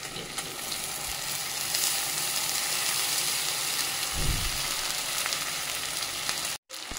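Rice frying in a pan with cooked onions gives a steady, close hiss and sizzle, with a brief soft scrape of stirring partway through.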